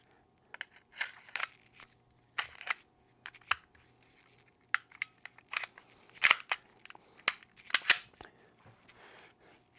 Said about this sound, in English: Can pull the trigger, it resets. Trigger is functioning just fine.